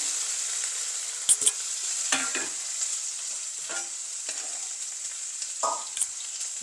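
Mustard seeds, curry leaves, green chilli and onion frying in a home kitchen pan, a steady close sizzle with a few sharp crackles and scraping stirs, no voices.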